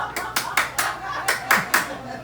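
Hands clapping in a rhythmic run of about nine sharp, evenly spaced claps, close and fairly loud.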